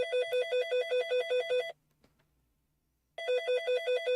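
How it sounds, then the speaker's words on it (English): A phone rings with a loud, warbling electronic trill in two bursts separated by a pause of about a second and a half, close and clear with no talk over it. "I think your phone's ringing."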